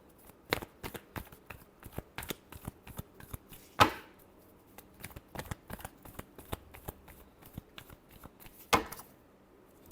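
Tarot cards are shuffled by hand in a steady run of crisp, close riffling slaps and flicks, with two louder snaps partway through, heard alone without speech.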